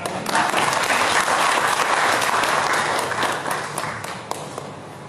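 An audience at a Hindi political speech by a cabinet minister gives a thick, even round of clapping that fills the hall, easing slightly toward the end with a stray clap near the close.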